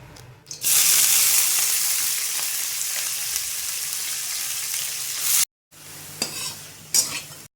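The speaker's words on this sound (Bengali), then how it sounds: "আলু ভাজাটা বসাবো, এই যে কড়াটা বসিয়েছি।" Potatoes fry in a kadai, starting with a loud, close sizzle that hisses steadily for several seconds, then a brief silence, followed by quieter frying with a few sharp stirring clatters.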